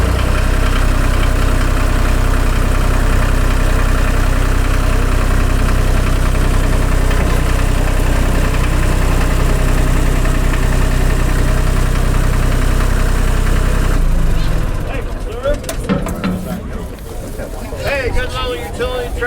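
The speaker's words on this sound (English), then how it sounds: "good little utility tractor, just for a 5-10 acre farm" Small utility farm tractor at a farm equipment auction, its engine idling loudly and steadily for about fourteen seconds before it drops off beneath crowd noise and talking.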